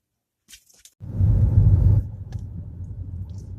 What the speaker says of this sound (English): We're out riding around looking for Christmas lights